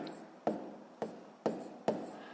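Pen or pencil strokes scratching on paper while a sixth-grade maths exercise is worked out, four short rhythmic scribbling bursts at about half-second intervals, close and fairly quiet with no talk.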